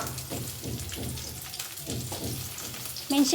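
Garlic and ginger crackle in hot oil in a pan, a close, even sizzle with soft rhythmic stirring scrapes and a small clatter right at the end.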